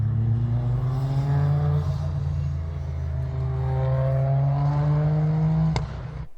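Toyota GR Yaris fitted with a new aftermarket exhaust, idling loud and steady with a low drone, its pitch slowly rising and falling through light revs before a sudden cutoff near the end.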